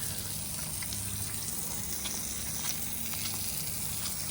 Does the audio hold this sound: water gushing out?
yes